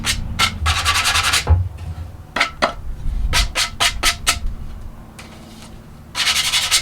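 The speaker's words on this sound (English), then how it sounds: "I guess we're doing the old hand sand today." Wood for wall shelves is sanded by hand, rough rasping strokes in quick bursts, some long and some clipped, close and fairly loud with short pauses between passes.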